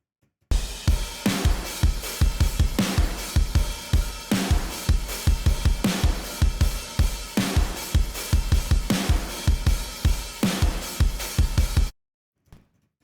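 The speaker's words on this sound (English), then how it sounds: "But solo the drums, they sound like this." Soloed drums from a rock mix, with a triggered snare reinforcing the attack and body: punchy kick and snare hits in a driving, regular pattern with cymbal wash, loud and dry, then stopping abruptly.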